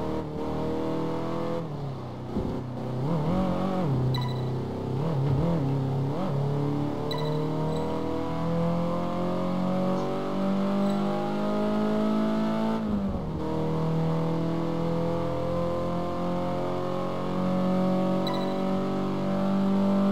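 A classic Ferrari with 240 bhp in the Test Drive Unlimited 2 racing game revs hard and steadily, its loud engine tone climbing and shifting through gears for the whole stretch, with a brief tire squeal partway through.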